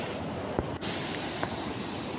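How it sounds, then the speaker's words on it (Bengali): Large ocean waves breaking along the shore of Fuvahmulah island in the Maldives, a steady broadband roar of surf and wind with a couple of brief thumps, no voices. "তো প্রথমে দেখছো কি বড় বড় ঢেউগুলো আসছে, ঢেউগুলো খুবই সুন্দর।"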